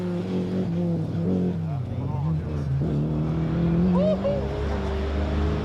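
Rally car on a stage of the 1996 Donegal International Rally, engine droning loudly with pitch shifts as another stricken car pulls off and a rival squeezes past, a voice talking over much of it.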